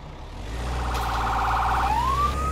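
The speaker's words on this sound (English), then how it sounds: "Use your fire truck sirens and horn to clear a path." A wailing fire truck siren from the Firefighting Simulator The Squad video game rises and falls steadily over a low engine hum, fairly faint and with no talk.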